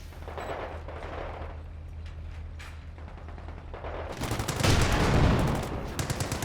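Heavy gunfire from a Company of Heroes 2 World War II battle erupts after a stretch of lower rumbling combat, dense rapid bursts of machine-gun and rifle fire rising loud around the four-second mark and continuing in rattling volleys.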